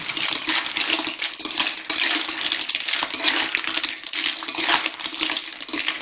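Clams stir-fried with basil in a pan, a loud, continuous sizzle with dense metallic clatter and scraping of shells close up, no voices.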